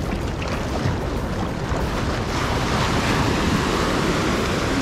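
Heavy surf crashing and churning continuously, loud and close, with wind buffeting the microphone throughout.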